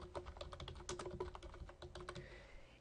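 Quick, close keystrokes on a computer keyboard, a steady run of sharp clicks typing a campaign name, with no voice.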